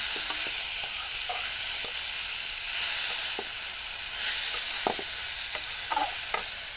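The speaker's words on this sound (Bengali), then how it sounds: "মশলা ভাজা শেষ" Spices fry with onion and potato in a pan, giving a steady, close sizzle broken by intermittent scraping stirs, with no talking.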